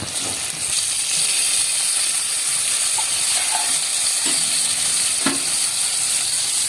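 Tomatoes dropped into softened onions frying in a pan raise a loud, steady sizzle with a hiss of steam, punctuated by a couple of sharp clinks of a utensil against the pan near the end.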